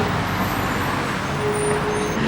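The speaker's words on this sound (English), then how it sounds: "look at the traffic" Street traffic in Los Angeles: a continuous roar of passing cars, buses and trucks close by, with a faint horn-like tone near the end, no talking.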